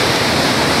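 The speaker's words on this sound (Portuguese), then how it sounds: "Tem uma corredeira. Essa corredeira, ela vem de uma outra cachoeira menor." Rushing river rapids fed by a smaller waterfall, a steady broadband roar of close, loud flowing water throughout with no pause.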